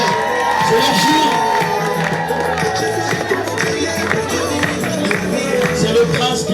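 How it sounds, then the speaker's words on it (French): Wedding dinner guests cheer and shout for the couple's entrance, a dense, loud crowd roar with scattered whoops and voices over music throughout. "Des acclamations, s'il vous plaît."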